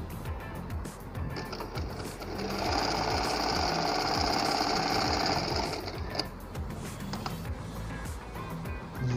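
A Janome 5002 sewing machine stitches automatically, a fast steady mechanical whir with rapid needle clatter that swells in the middle and tapers off, close and alone.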